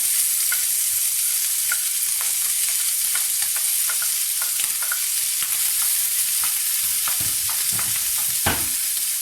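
Onion and garlic fry in pure coconut oil with a steady, close sizzle, punctuated throughout by light clicks and scrapes of stirring, with no talking.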